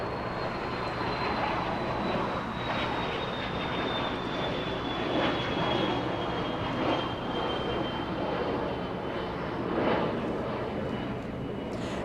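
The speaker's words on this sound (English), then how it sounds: "we have Delta 773 flying in from JFK. A 767-300" Delta Boeing 767-300 airliner flying in from JFK and arriving at LAX, a steady broad jet roar with a slowly falling whine, held at an even level for the whole stretch with no talk.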